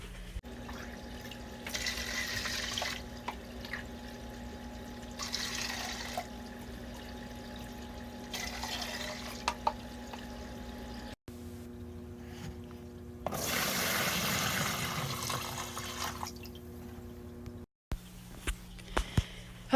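Water being drawn out of a fish tank, with several bursts of splashing and pouring water over a steady low hum of aquarium equipment, close by.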